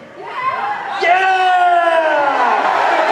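A loud convention crowd of Bronies at BronyCon 2014 cheers and whoops with rising, sustained shouts that swell and hold for several seconds.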